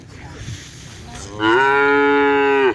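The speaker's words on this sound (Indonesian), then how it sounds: "Terus ini ada sapi kecil juga" A small cow lets out a single long, loud moo close by, rising after a second of quiet field noise and holding steadily for over a second before cutting off.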